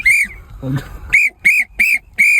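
Shrill, piercing whistle blasts sound close and loud while someone is parking, first one blast, then a short burst of voice or noise, then four evenly spaced sharp toots in a steady rhythm.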